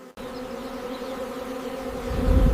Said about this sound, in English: millions of loyal worker bees follow their queen.